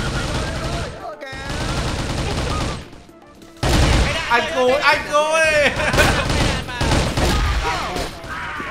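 Rifle gunfire in a fast-paced first-person shooter, an M16 or M700, with rapid bursts of shots and explosive game effects layered under loud, excited talk from players.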